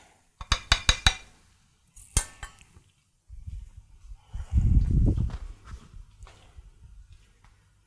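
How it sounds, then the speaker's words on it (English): A utensil clinks sharply against a pot several times as lye soap mixture is stirred, followed by a softer, duller scraping and swirling stretch, all close and without talk. "You start stirring"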